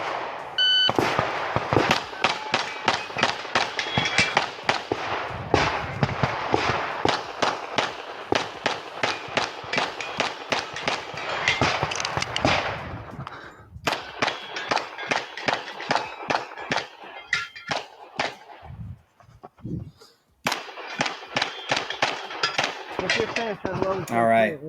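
Rapid bursts of gunshots ring out at a steel-heavy USPSA competition stage, loud sharp reports in quick strings with brief pauses between target arrays, some metallic ring from steel plates.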